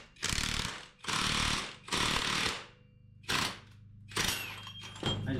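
An inner bushing is pressed out of a Chevy K30 axle with a pneumatic tool, heard as loud, close bursts of rapid hammering, five in all, separated by short pauses.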